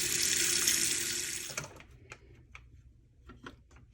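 Tap water runs steadily into a pot meant as a candle-making double boiler, filling to about an inch; the flow cuts off after a second and a half, followed by a few faint clinks and handling sounds.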